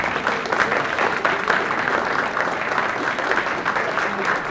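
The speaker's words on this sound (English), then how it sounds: "Let's give Mr. Cooke a round of applause as he comes." An audience at a trustee swearing-in ceremony gives Mr. Cooke a round of applause, a steady, fairly loud stretch of clapping with some murmured voices mixed in.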